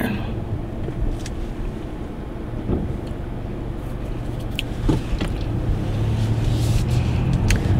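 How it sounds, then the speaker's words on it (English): A car turns nearby, heard from inside a vehicle as a low, steady engine rumble with a few soft clicks and knocks, rising slightly in level toward the end, with no talking. "Let this car turn."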